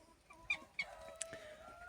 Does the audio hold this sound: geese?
yes